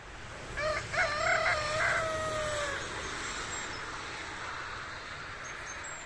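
Rural free-range chickens outdoors, a rooster crowing once clearly at moderate distance, followed by soft background clucking and ambient outdoor noise, no voices.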